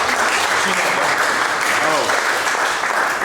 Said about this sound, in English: Let's give our speaker a round of applause as well.